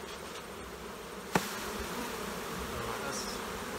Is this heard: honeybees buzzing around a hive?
yes